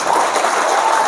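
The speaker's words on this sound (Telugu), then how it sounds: "క్లాప్స్ ఇట్లు ఇవ్వద్దు" A crowd claps at a speech, a short, loud and even wash of applause with no voices over it.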